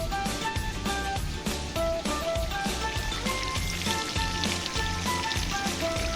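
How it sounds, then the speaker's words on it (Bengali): Chicken pieces frying in hot oil until browned for a Bengali chicken chaap, a steady close dense sizzle and crackle running throughout, mixed with background music. "এরকমভাবে লাল লাল করে ভাজতে হবে"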